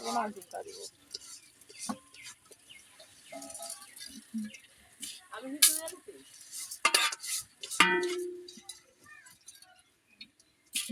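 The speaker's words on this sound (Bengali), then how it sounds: "আলুর দম রান্না" Aloo dum, a potato curry, is cooked in a pot with repeated scraping and stirring, a spoon clattering against the metal in uneven bursts over a faint sizzle, with voices talking intermittently.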